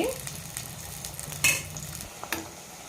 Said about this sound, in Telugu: రెండు పెద్దలపాయలు సుమారుగా బాగా ఎర్రగా వేగాలి